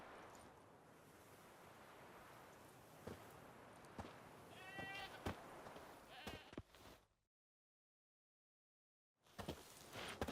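A goat tied to a stake as forktail bait in the game The Witcher 3: Wild Hunt bleats several times over wind and rolling surf. The bleats are short and nasal, then the sound cuts to full silence before the ambience returns.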